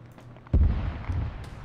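Gunfire and a heavy impact in the military game Arma 3 hit with a loud sudden boom, followed by a rumbling tail under the player's spoken reaction.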